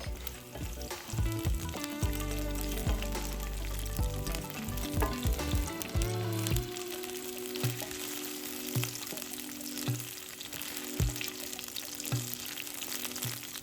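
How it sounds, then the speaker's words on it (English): Garlic, ginger and scallions fry in about a tablespoon of oil for a mushroom and chicken stir fry, a steady close sizzle with scattered clinks and scraping of a utensil in the pan. "Keep around 1 tablespoon of oil and fry garlic, ginger, and the scallions until aromatic."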